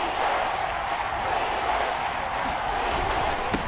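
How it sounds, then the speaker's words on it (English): A football stadium crowd roars at a Patriots vs Miami season opener, a dense, steady wall of noise that stays fairly even throughout without clear swells. "That just means this crowd's going to get even louder"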